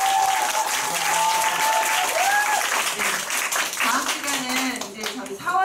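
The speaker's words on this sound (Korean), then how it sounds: "다시 한번 감사의 박수 부탁드립니다" An audience at an indoor company meeting breaks into sustained applause, a dense, loud wash of clapping that fades slightly toward the end, with a few voices mixed in.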